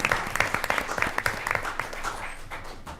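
Round of applause for second graders at a Twinsburg Board of Education meeting, a moderate crowd clapping with distinct individual claps, steady then tapering slightly at the end.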